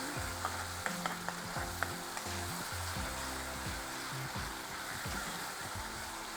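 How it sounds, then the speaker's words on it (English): Ginger garlic paste frying in hot oil in a pan for a Punjabi dal makhani, a steady close sizzle with crackling pops and stirring scrapes throughout. "once the oil is ready, I will add 1 small ladle of ginger garlic paste"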